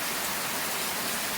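Heavy thunderstorm rain pours onto a porch and the ground around it, a dense, even hiss that stays steady throughout without any voices.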